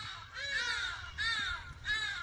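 An African urban bird gives loud, harsh cawing calls, three repeated calls spaced evenly, at a moderate distance with no voices.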